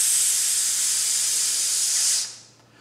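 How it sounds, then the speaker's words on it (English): A brass player's sizzle breathing exercise, a steady loud hiss of air forced through the lips, held evenly for about two seconds before cutting off abruptly into quiet. "have them sizzle."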